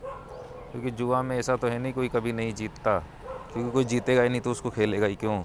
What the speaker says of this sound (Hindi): ये कुत्ते ज़्यादा ही आज भौंक रहे हैं